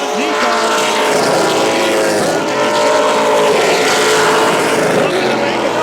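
Race cars racing at Central Texas Speedway: a loud, continuous roar of several engines, pitch rising and falling as they pass, with a commentator talking over it.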